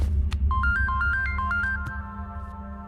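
An electronic phone ringtone chirps a quick stepped melody of repeated tones over a deep, loud rumbling background score, steady and close, with no voices.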